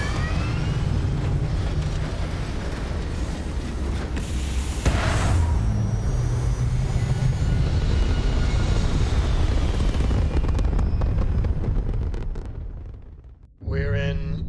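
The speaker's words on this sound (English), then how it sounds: "Prepare for liftoff." Spaceship lifting off in Starfield, a loud continuous engine roar and rumble building with a whooshing burst midway, sustained for many seconds before cutting out, then resuming briefly.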